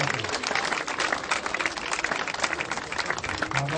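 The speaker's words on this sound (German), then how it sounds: "Ich kriege noch einen Gesamtapplaus." Dense audience applause fills a sports award ceremony for age-group placings, a steady wash of many hands clapping at close range with no pauses, lasting a few seconds on its own.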